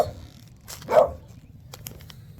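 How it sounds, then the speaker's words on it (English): A dog gives one short, moderately distant bark, followed by a few faint yips against a low background hum. "those stupid dogs wouldn't shut the hell up"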